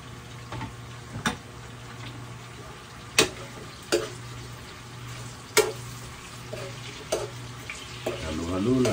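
A meat stew for apritada or kaldereta simmers in a pot while a utensil stirs it, giving sharp intermittent scrapes and clacks over a low steady bubbling sizzle, with a brief voice near the end.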